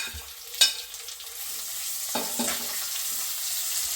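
Shallots, crushed green chili, crushed ginger and garlic sautéing gently in a pan for a Kerala coconut-milk fish curry: a steady close sizzle with a sharp utensil clink near the start and a few stirring scrapes, no talk.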